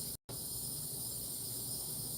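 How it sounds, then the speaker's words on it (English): Steady, dense insect drone of cicadas outdoors on a fine day, a continuous high buzzing hiss that fills the background at even loudness, broken only by a very brief dropout near the start. "We got some cicadas out."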